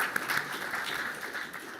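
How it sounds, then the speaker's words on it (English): A small audience gives politicians a round of applause at a Scottish political forum, a steady soft patter of clapping at moderate distance throughout. "I think a wee round of applause to them again for coming here today."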